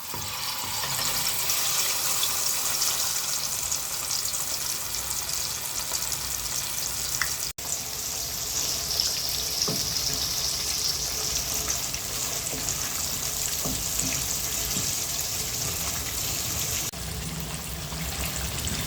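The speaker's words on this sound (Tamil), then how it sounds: "மீன் வறுக்க போகிறேன் நான்." Fish fries in hot oil in a home kitchen, a loud continuous crackling sizzle close by that holds steady throughout, with a few faint clinks beneath it.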